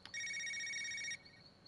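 Phone ringing in the detective game Knee Deep: a single bright electronic ring tone lasting about a second, clean and alone with no voices.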